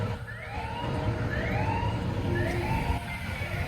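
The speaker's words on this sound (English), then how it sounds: "I'm not sure what that siren is." An emergency vehicle siren wails in repeated rising-and-falling sweeps near an amusement park, moderately distant and steady over a constant outdoor background hum, with no voices.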